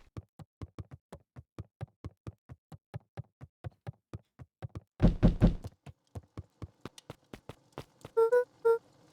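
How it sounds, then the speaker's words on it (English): Knocking on a door in Beacon Pines, a long steady series of crisp raps with a brief heavier pounding burst partway through, then a short chime-like tone near the end, close and distinct without any voices. "Someone's at the door."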